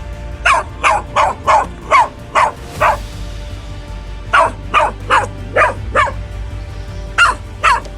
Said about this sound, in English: Uh-oh, there's a dog.